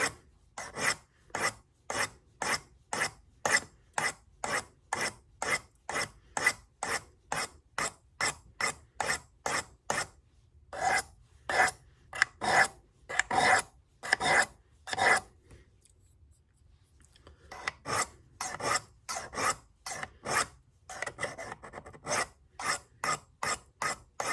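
A knife blade is drawn over a sharpening stone in quick regular strokes, each a sharp raspy scrape with a brief gap between, repeating dozens of times near and loud, with a short pause partway through.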